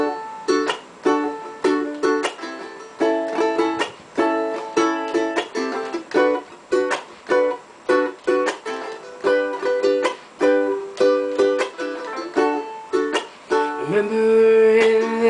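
Acoustic guitar strumming a cover song in an up, down, down, up, up pattern, steady rhythmic chords played close and loud with no voice, ending on a sustained ringing chord.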